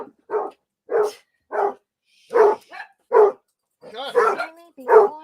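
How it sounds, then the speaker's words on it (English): Dogs fight indoors, with a series of sharp, close barks and yips in bursts separated by brief pauses, ending in a denser tangle of growling barks and whimpers. "Dog fight. It's noisy around here."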